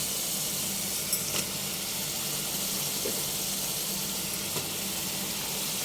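Chicken added to a pan of deep-fried reddish onions, a steady soft sizzle with faint clinks and stirring, no talking.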